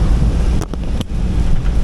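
Loud wind buffets the microphone in a steady low roar, with a couple of brief sharp gusts breaking through.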